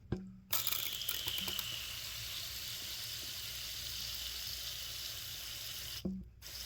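Water poured into a tarantula's enclosure, a steady close trickle and splash running almost unbroken for several seconds, with brief quiet gaps at the start and end.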